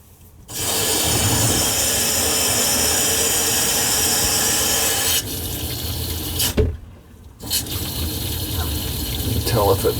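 Water gushes steadily into a slow-draining, backing-up kitchen sink, loud and close, then briefly stops and resumes with a gurgling, rushing flow.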